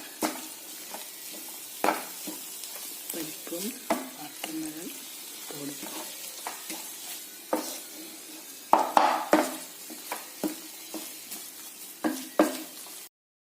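Grated coconut stirred into a watermelon rind and dal curry in a pan gives soft repeated scraping and spoon knocks over a quiet, faint sizzle, in irregular strokes.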